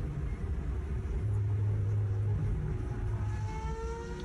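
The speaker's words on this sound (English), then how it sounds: "That is an old F1 car." An old Formula 1 car, likely V8-powered, roars along the Autobahn with a steady, loud engine drone and a rising whine as it accelerates, continuous throughout.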